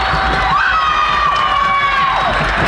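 Fans cheering loudly at a Highlands at Pine Richland high school basketball game, a steady roaring crowd with whoops and shouts sustained throughout.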